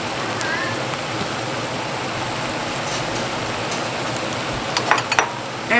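Ground beef and potatoes for tacos being stirred in a pan, a steady soft sizzle with scraping and a few brief clatters of the utensil near the end.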